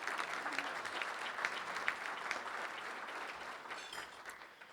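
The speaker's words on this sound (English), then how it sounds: "Let's have a round of applause for the people that have made this all happen." Sustained audience applause at a gala luncheon fills the room, steady and fairly loud throughout before tapering slightly at the end.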